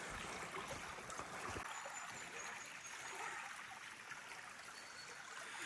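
Broadband rushing of a river in steady flow after a cyclone, with a heavy low rumble for the first second and a half that then eases into a constant wash, fairly near with no voices.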